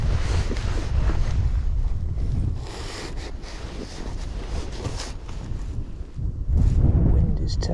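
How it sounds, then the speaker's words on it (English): Strong wind buffets the microphone on a canal bank during a spring match-fishing session, a constant heavy rumble with gusty surges throughout and no pause. "Wind is terrible."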